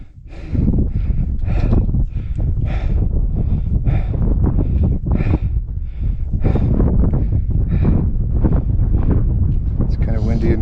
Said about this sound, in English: It's kind of windy and cold.